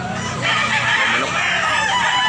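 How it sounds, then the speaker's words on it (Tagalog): A lemon sweater gamecock rooster crows once in a loud, near, drawn-out call lasting about two seconds, with faint background noise and no speech. "Manok."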